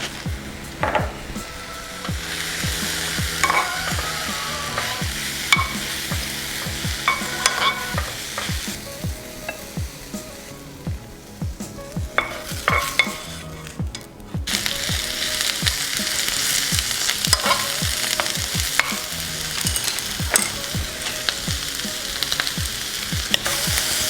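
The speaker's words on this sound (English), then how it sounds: "have my burner on medium to high heat, just the smallest amount of oil. Let's go ahead and do the mushrooms." Mushrooms sauté in a small amount of oil on a burner at medium-high heat, a continuous close sizzle with frequent stirring scrapes and light taps against the pan, with no talking.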